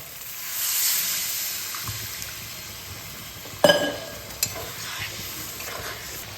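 Spice paste for a Bengali mourala fish curry fries in oil with a steady close sizzle and stirring, then a sharp splash and burst of hissing as water is poured into the hot pan, settling back to a softer simmer.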